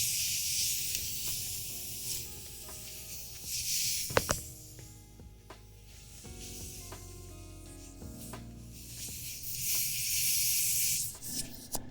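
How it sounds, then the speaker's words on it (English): An airbrush hisses in broad, steady bursts, fading in and out over several seconds, with scattered clicks and handling noises between the sprays. "Dude, shut up, airbrush."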